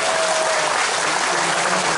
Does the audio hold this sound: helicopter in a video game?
no